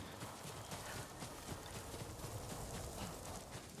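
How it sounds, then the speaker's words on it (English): Horses galloping in the video game Ghost of Tsushima: a dense, steady clip-clop of hooves, fairly close and continuous, with no talk over it. "Horses, they're coming for us."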